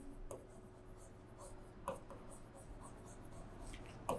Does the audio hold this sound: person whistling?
no